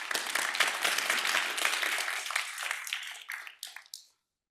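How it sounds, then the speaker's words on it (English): An audience at a university lecture gives a round of applause, a dense burst of clapping that stays steady for a few seconds before thinning out to a few last claps and stopping. "so give them a round of applause."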